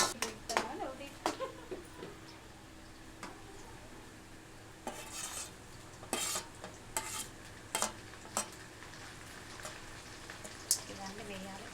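Onions frying in a pan are stirred with repeated spatula clinks and scrapes over a quiet sizzle, sounding close and at an irregular pace.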